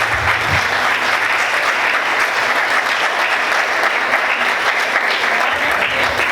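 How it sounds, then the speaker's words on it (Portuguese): A large church congregation claps continuously and loudly, a dense steady wash of applause lasting several seconds. "Você pode aplaudir Jesus no forte?"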